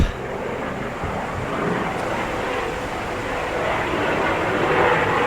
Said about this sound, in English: Probably a private chopper or somebody giving out rides.